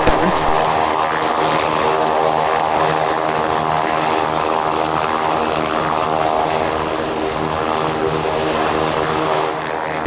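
General aviation propeller aircraft and business jets at Spirit of St. Louis Airport, a loud steady engine drone holding throughout with no voices, easing slightly near the end.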